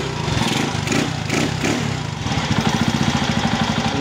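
A converted 250cc TMX 155 motorcycle with an oversized carburetor idles close by, a steady rapid chugging beat that sharpens into a more distinct pulsing toward the end.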